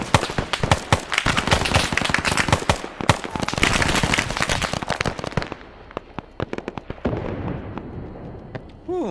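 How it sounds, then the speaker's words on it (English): Loud, rapid bursts of automatic gunfire and explosions in a Vietnam-era SOG helicopter rescue video game, dense cracking volleys that thin out into sparser shots. "Ooh, more explosions being heard."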